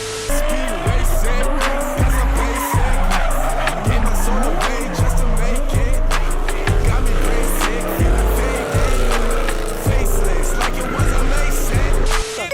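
Car tires squealing and sliding on pavement in repeated loud bursts, with engine roar between them and a rhythmic low thump running under the skids.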